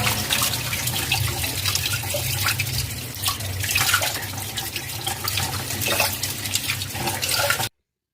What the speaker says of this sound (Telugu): వీటిని ఫస్ట్ ఇలా ట్యాప్ కింద పెట్టేసి క్లీన్ చేద్దాం.